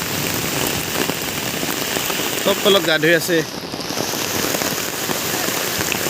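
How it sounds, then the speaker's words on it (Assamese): Steady rain patters hard on banana leaves overhead and on the ground all around, a dense hiss that never lets up. A voice speaks briefly partway through. "এই যি বৰষুণ, এই কলপাতৰ ছাতিৰ তলত সোমাই ভিডিঅ' কৰি আছোঁ।"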